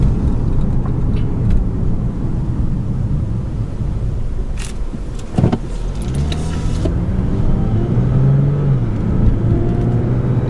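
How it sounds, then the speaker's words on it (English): A 2013 Lexus GS350 in sport mode accelerates while holding low gears, heard from inside as a steady low cabin rumble with a rising engine tone partway through and a sustained hum near the end; no one speaks. "with the transmission and the sport mode, it likes to stay in low gears for best acceleration."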